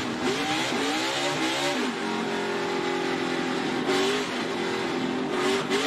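A NASCAR Xfinity Series race car on a celebration lap at Road America roars steadily nearby, its engine note rising and falling through gear changes without pause.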